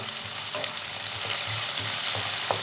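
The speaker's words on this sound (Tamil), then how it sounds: "இது நல்லா வதக்கி எடுத்துக்கலாம்." Chopped onions and curry leaves sautéing in a pan, a bright continuous sizzle with soft rhythmic stirring scrapes, close and clear without talk.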